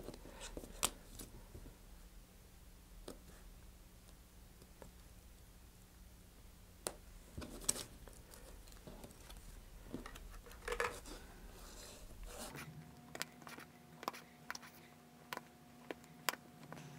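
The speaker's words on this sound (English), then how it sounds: "you're going to take your hobby knife, and I recommend cutting through the little tabs" A hobby knife cuts small plastic parts free from their tabs in a model rocket kit. It gives faint, sparse clicks and snips over a quiet background.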